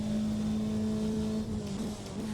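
A race car engine from the rFactor 2 Endurance Bundle 2 DLC drives in the racing video game, a steady, fairly quiet humming drone held at a constant note that dips briefly before recovering.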